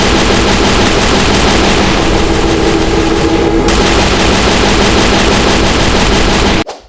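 Relentless automatic gunfire from a video game motorbike chase, loud and continuous for several seconds as riders are fired upon, ending abruptly near the close.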